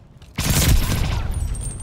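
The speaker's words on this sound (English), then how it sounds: "Allies calling a mortar barrage." A mortar barrage in the video game Call of Duty: Vanguard, a sudden loud blast after a short quiet lead-in, followed by a rumbling, crackling decay that fades over about a second.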